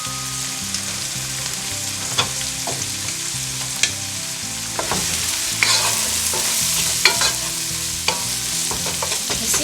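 Onions and salted fish fry in a little oil for a Ghanaian bean stew, a constant loud sizzle broken by repeated scraping stirs of a utensil against the pot.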